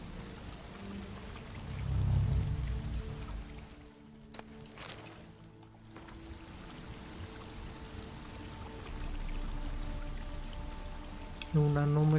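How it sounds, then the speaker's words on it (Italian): A waterfall roars steadily in The Witcher 3: Blood and Wine, a broad rushing wash that dips briefly midway. A short tonal effect sounds near the end, and there is no talk. "questa cascata va al contrario."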